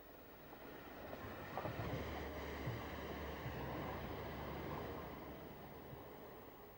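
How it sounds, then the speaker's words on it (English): A GWR 45xx class tank steam locomotive works a branch line, giving a steady, continuous rumble and rolling noise at moderate distance with no voices. "Mainstay of the line is the 45 tank, this being the last actual locomotive to run in BR service on the branch."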